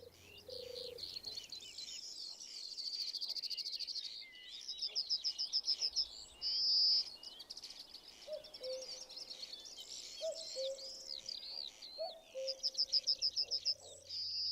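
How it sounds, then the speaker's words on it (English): Buntings, corn bunting and yellowhammer among them, jangle and jitter in hedgerows bordering an English hay meadow, with a dense chorus of high chirps, trills and twitters throughout and faint lower cooing phrases from turtle doves now and then, no talk. "The purring of turtle doves pulsates from deep within the hedgerows, as do the jangles and jitters of the buntings"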